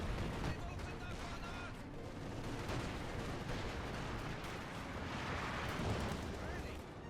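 Dense, continuous battle noise from a Company of Heroes 2 match in Lienne Forest: rolling explosions and rapid gunfire pile up without a break, with a grenade blast buried in the din and a voice faintly underneath.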